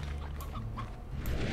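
A chicken clucks in the farming game Slime Rancher, short soft clucks over a steady low game hum, with no talk.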